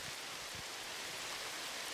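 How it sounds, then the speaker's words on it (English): Steady rain falling on a planet in the space exploration game No Man's Sky, a continuous soft hiss of drops heard alone with no voices. "a spectacularly and interesting sound, some rain"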